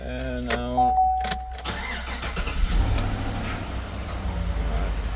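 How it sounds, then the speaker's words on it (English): A 2016 GMC Sierra's engine cranks and catches, settling into a steady low idle rumble close by, with no talk over it. "I didn't expect it to start up the engine, but apparently it did"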